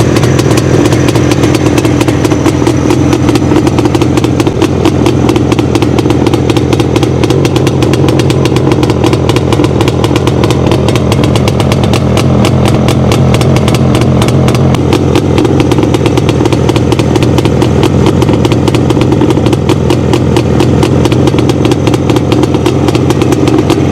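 Jawa air-cooled two-stroke twin-cylinder motorcycle engine of 343 cc running steadily, a loud, buzzy, clattering drone that holds without a break, close up.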